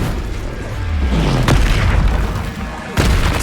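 The Incendio fire spell is cast in Hogwarts Legacy, giving loud booming bursts over a constant rumbling bed with sharp hits at about the middle and near the end.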